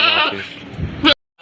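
A male goat at a Bakra Mandi livestock market bleats once, loud and close, a long wavering call that breaks off abruptly, followed by a short burst of noise.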